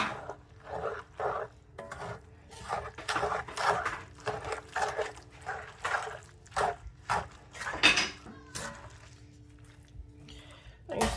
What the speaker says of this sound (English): we're gonna get that all stirred up